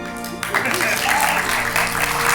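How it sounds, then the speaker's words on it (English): An audience breaks into applause, a dense wash of clapping that swells and continues, with voices heard over it. "If you think sir was good, give a round of applause."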